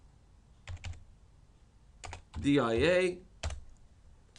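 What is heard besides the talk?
typing on a computer keyboard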